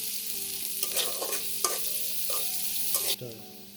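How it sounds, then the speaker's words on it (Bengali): Mixed vegetables fry in a pan, browning with a steady broadband sizzle while a utensil stirs them in several distinct scraping strokes, close and moderately loud, with no talking. "এগুলোকে আমরা বাদামি কালার করে ভেজে নিব"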